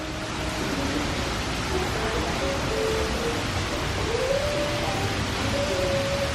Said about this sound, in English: thanks to this lovely little torrential downpour